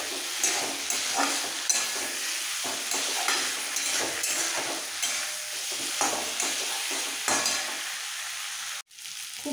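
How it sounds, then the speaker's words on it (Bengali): Masala for a rohu fish curry, made without onion or garlic and spiced with red chilli powder, sautés in a pan and is stirred steadily. It gives a continuous sizzling hiss with scraping strokes throughout, and one brief drop near the end. "খুব ভালো করে কষানো হয়ে গেছে।"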